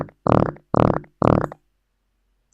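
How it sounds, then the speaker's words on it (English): Three loud, wet, drawn-out fart sound effects from a soundboard program, each about a third of a second, in quick succession, then silence. "My slow, messy fart will play forever."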